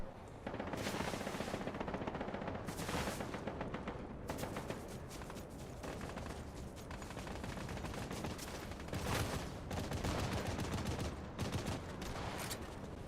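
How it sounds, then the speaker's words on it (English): Sustained automatic gunfire in the video game Fortnite, dense rattling bursts running nearly nonstop for about thirteen seconds, loud and close with brief lulls between volleys. "Someone else was just shooting me, though."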